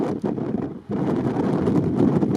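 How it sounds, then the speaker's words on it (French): Strong wind on a road descending from Delphi toward Itea in Greece, near the sea, buffets the microphone in a steady, loud roar, dipping briefly near the start before surging back and holding. "avec un vent violent"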